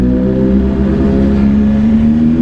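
A BMW S1000RR motorcycle engine drones steadily while riding, a loud continuous hum with a slowly rising pitch and no talk over it.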